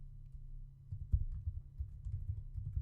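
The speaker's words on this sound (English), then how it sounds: "I think I'll just type those out." Muffled keyboard typing, a soft, steady run of low key taps with one sharper keystroke, close and quiet, while HTML table code is entered.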